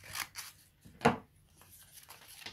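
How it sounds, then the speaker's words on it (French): Kraft tape is cut close up with scissors: a couple of quiet snips and one sharp, louder cut, set against a quiet room. "Et je viens le découper"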